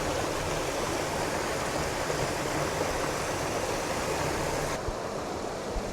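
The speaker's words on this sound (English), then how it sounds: "This is the water flowing into the top of Triplet Falls." Water rushes steadily into the top of Triplet Falls in the Otways rainforest, a loud, continuous broadband roar heard close up with no voices.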